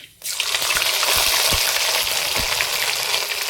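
Garlic-ginger paste dropped into hot oil with crackling cumin seeds, bursting into a loud, close, continuous sizzle that fills the whole stretch with no speech.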